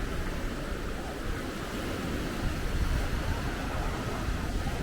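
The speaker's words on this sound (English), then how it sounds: "Atlantic Ocean." Atlantic Ocean waves wash onto the shore near Asilah, Morocco, producing a continuous broadband roar of surf mixed with wind, fairly close and steady with no distinct breaks between waves.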